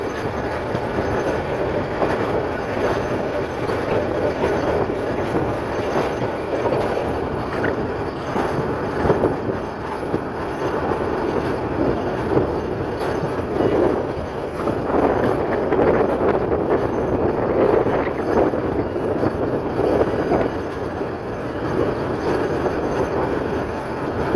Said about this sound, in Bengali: পুরো ট্রেনটি দেখা যায় বাঁক নিয়ে ট্রেনটি সামনের দিকে এগিয়ে যাচ্ছে